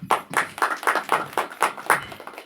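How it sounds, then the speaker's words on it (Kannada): A single person claps at a film press meet in a roughly steady rhythm, about nine sharp, close claps with no other applause around them. "ನೀವೊಬ್ಬರೇ ಯಾವಾಗಲೂ ಚಪ್ಪಾಳೆ ತಡ್ತಿರಲ್ಲ"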